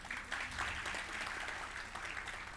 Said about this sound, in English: So I think let me also just take this moment to give a round of applause to Tehila, our moderator.